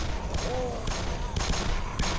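Bursts of rapid gunfire in the Black Mesa video game come in several short volleys over a dense background of game noise.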